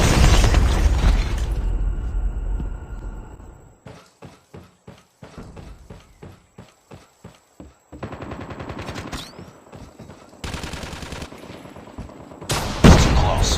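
Gunfire rings out in a video game shootout: a loud burst at first, then a rhythmic string of sharp single shots, followed by denser rapid volleys and a heavy blast near the end.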